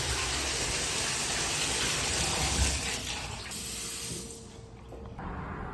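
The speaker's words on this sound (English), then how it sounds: "then just leave the water on until only water is coming out" Water from a tap runs steadily to purge air from a water heater line after a shutoff valve is installed, a continuous broadband gush that softens slightly partway through.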